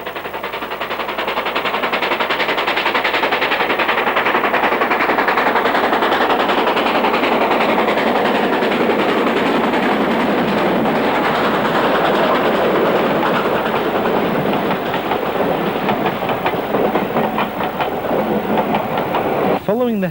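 A double-headed steam train labours up the heavy gradient toward the summit on the North Yorkshire Moors Railway, a loud, continuous rumbling chuff building steadily and then slowly fading, with a narrator's voice over it.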